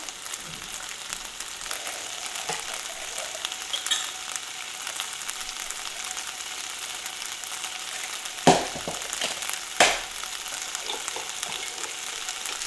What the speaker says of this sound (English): I'm just going to let this simmer in this sauce for a little while